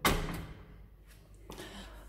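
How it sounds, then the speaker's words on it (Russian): An apartment door is pulled closed gently without latching, a soft thud at the start followed later by a quieter knock, faint and close in an otherwise quiet hallway. "Я до конца не захлопываю дверь."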